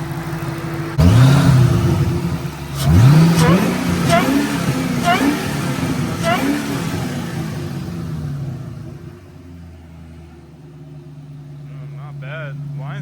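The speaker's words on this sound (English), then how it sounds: "Do a little rev." 2003 Mustang Cobra engine fitted with a JLT intake, revved several times in quick succession with rising and falling whine, then settling to a low idle; someone talks during the revs.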